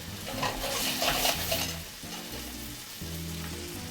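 A rack of lamb sears in butter over high heat, giving a loud, dense, continuous sizzle with faint utensil movement and no talking.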